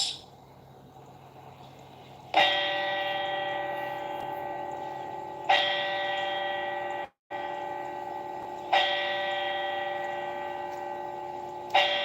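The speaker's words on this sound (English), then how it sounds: "So they send off 4 bells" Four slow, loud church bell strokes, each ringing out and fading before the next, with a short gap of silence between the second and third.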